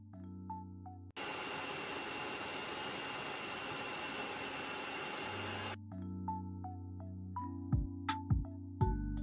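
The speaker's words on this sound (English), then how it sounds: "We'll keep blending until it's transformed into a smooth and creamy batter" A blender grinds peanuts into peanut butter with a loud, continuous whirring roar lasting several seconds, preceded and followed by quieter background tones and clicks.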